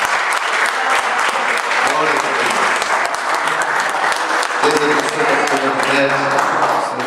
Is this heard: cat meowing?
no